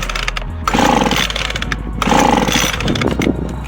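A Homelite 26b chainsaw running on choke roars loudly and close in two rough bursts, dropping briefly between them; no voices.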